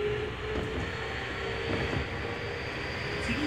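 A Tokyu 5050 series Fukutoshin Line local subway train rumbles along steadily from inside the car, with a continuous roar and faint rail clatter throughout.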